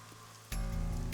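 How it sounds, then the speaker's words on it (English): Rain in the video game AI: The Somnium Files pelting a parasol beside an abandoned roof at the closed Bloom Park, a steady dense patter that jumps in suddenly and stays loud and close. "A parasol is getting pelted by the rain."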